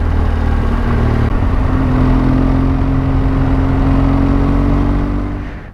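A motorcycle engine drones steadily and loudly while riding up the Col de Cary mountain pass in France, with heavy wind rumble throughout and no talk, fading slightly at the very end.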